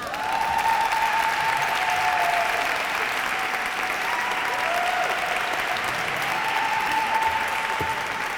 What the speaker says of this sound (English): let's give another round of applause for all of our wonderful guest speakers